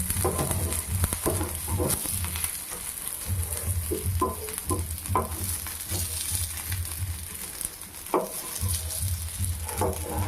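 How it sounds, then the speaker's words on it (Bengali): Kulekhara greens coated in a rice-flour batter sizzle and crackle steadily as they fry in a pan. A few soft stirring and pan knocks sound as pieces are turned, with no talk. "এভাবে উল্টো পাশটাও ভেজে নেব"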